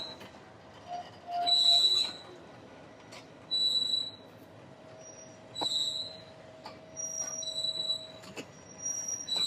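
A train shunting between tracks in the yard at Parbatipur station, its wheels letting out repeated high, piercing squeals in bursts of a second or two, with a faint low hum and occasional metallic knocks between them.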